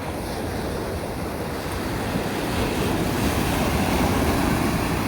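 Ocean waves wash steadily onto a beach at sunrise in New South Wales, a continuous broad surf roar with light wind buffeting the microphone and no voices.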